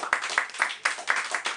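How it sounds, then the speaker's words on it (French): An audience at an evening poetry event claps for a poet, a brisk run of several rhythmic hand-clap bursts, fairly close and loud. "On l'applaudit, mesdames et messieurs."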